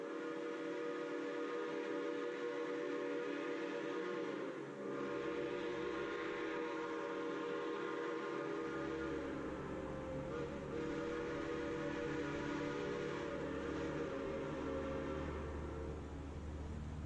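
Narrow-gauge Durango & Silverton steam train, engine number 493, departing Durango northbound for Silverton, heard as a steady rumbling rail sound with a sustained whistle-like tone throughout, moderately distant and without speech.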